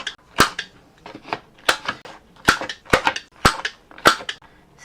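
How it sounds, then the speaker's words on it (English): Sharp clicking punches from a medium corner rounder cutting paper photo mat corners, about eight crisp snaps in an uneven rhythm, close and fairly loud. "So I'm going to round the corners on these, and I'm going to go with the medium rounder."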